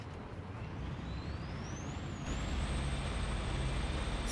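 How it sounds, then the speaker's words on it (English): Engine of a large vehicle in the Battlefield 4 video game, a heavy truck-like drone with a hiss and a rising whine, growing slightly louder partway through and running steadily alone. "This one sounds like a big freaking truck."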